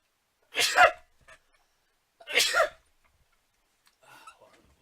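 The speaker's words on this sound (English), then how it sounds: "Pause, I gotta sneeze, hold on." A person sneezes twice in quick succession, each burst sharp and close, followed by a fainter, shorter sneeze or snort.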